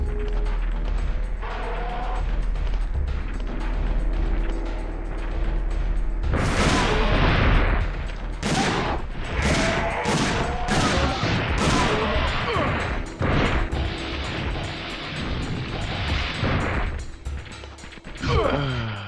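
Shotgun blasts in Dino Crisis 2, a cluster of loud, sharp bursts in the middle of the stretch over steady game noise, with crashing impacts between shots.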